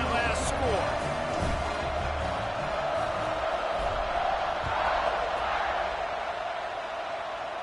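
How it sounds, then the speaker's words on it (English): Stadium crowd in a Texas versus Notre Dame college football video game, a steady roaring buzz filling the whole stretch, with commentary talk running over it. "this crowd is buzzing after that last score"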